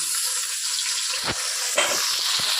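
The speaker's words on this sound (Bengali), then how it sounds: "এবারে কচুর শাকটা আমি ঢেলে দিলাম।" Taro greens hit a hot pan holding fried hilsa fish head, setting off a steady close sizzling hiss, with a few soft knocks and stirring sounds near the end.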